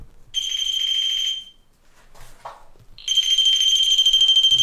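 A K2 EMF meter used on a paranormal exploration gives off a loud, high electronic alarm tone, sounding for about a second, dropping out briefly with faint movement noises, then returning as a pulsing beep.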